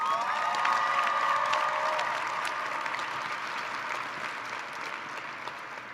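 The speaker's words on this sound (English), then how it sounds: "Let's give her another round of applause." An audience applauds at a 2019 high school graduation ceremony, a dense, loud wash of clapping with a few cheers that slowly tapers over six seconds, with no talk.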